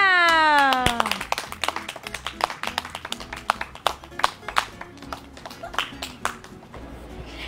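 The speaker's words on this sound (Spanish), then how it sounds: "¡Un fuerte aplauso, Yesenia!" At a talent show, an audience claps after a loud opening tone, then the applause thins into scattered, uneven handclaps that fade over several seconds.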